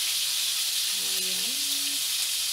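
Fish frying in a pan over low to medium heat, a steady hissing sizzle that fills the whole stretch, with a brief faint voice in the background partway through.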